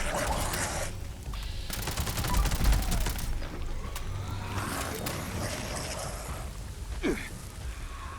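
Rapid bursts of submachine gun fire in a video game, short-range weapon, loud and close, with repeated volleys and brief pauses alongside other in-game noise.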